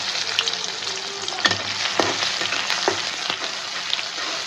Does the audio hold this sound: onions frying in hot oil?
yes